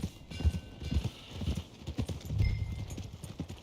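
Horse hooves clip-clop at a steady walking pace in Red Dead Redemption 2, fairly close, with a few heavier thuds and a soft snort.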